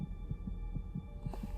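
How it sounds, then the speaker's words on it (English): A TV episode carries a heartbeat sound effect, a fast, steady series of low double thumps over a faint hum, repeating about every fifth of a second. "Your heart's beating pretty fast."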